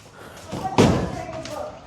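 A car door on a junkyard Ford Ranger shuts with a single solid slam midway, preceded by faint shuffling and followed by a short ringing tail.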